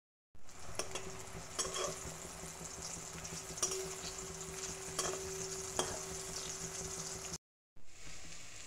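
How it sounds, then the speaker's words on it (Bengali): Green banana dhokla frying in hot oil, a continuous close sizzle with occasional spatula taps and stirring scrapes, cut off briefly near the end before resuming. "এগুলোকে একটু লাল লাল করে ভেজে নেব।"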